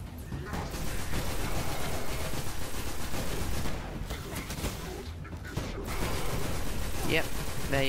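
Sustained gunfire at an enemy in the sci-fi shooter Destiny: dense, rapid shots in a loud, continuous barrage with game effects mixed in and a brief lull partway through.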